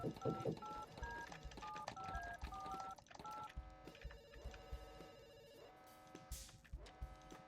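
A telephone number is punched in during a video game, producing a quick run of electronic dial tones over busy background sound, followed by fainter beeps and clicks.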